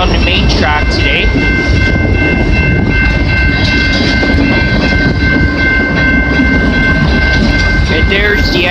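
The last cars of a CP freight train roll by up close on a line in London, Ontario, in winter, a loud, steady rumble and clickety-clack with sharp wheel squeal, and brief faint talk underneath.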